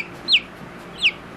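Young off-grid chicks give two separate high, thin descending peeps, each short and clear over a quiet background, spaced about three-quarters of a second apart.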